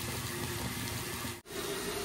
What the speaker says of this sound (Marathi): आपण आता यात पाणी घालूया